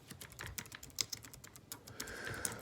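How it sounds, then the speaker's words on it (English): Fingers type on a computer keyboard nearby, a quick, uneven run of light clicking keystrokes at low volume, with no talking over it. "But let me type this here before I forget."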